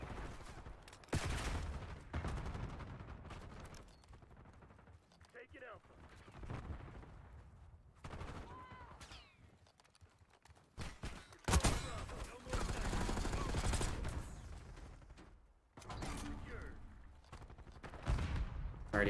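Gun firing in Black Ops 6, with bursts of rapid gunfire and explosive blasts amid game sounds, heard under someone talking over parts of it.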